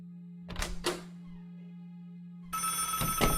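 A telephone bell rings in two bursts of bright, rattling rings separated by a pause, loud and close, over a steady low hum with no talking.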